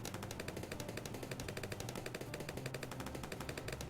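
A sniper monkey fires rapidly in Bloons TD 6, a steady fast train of sharp gunshot cracks repeating evenly throughout at moderate volume.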